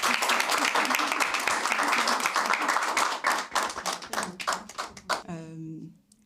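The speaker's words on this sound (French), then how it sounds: "Applaudissez pour la Miss." Audience applauding for Miss Universe of the Democratic Republic of Congo, dense clapping that is loud at first, then thins into scattered claps and fades out, ending in a short tonal sound.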